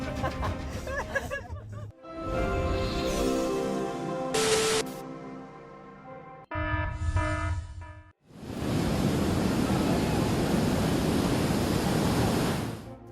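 Storm surf from Hurricane Sandy at Delray Beach: waves pound and surge onto the beach in loud, roaring broadband bursts, the longest crash filling the final five seconds, with brief quieter gaps between.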